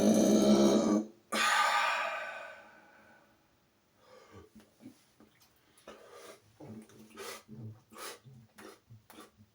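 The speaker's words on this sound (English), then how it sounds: "I've been burping with my mouth closed" Closed-mouth burps: two long, loud, rumbling eructations back to back in the opening seconds, followed by a string of quieter, short clicking and gulping sounds.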